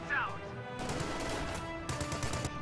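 M1919 machine gun fire in a World War II strategy video game, heard as sharp bursts of rapid shots. A brief synthetic tone opens the clip, and the bursts are moderately loud amid game effects.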